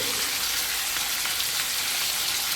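Hilsa fish frying in hot oil in a pan, a steady close crackling sizzle with fine popping spatters throughout.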